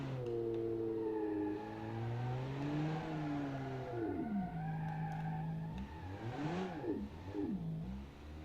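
American muscle car in a racing game, a loud engine revving up and down through gear changes, with tire squeal from skidding as it corners.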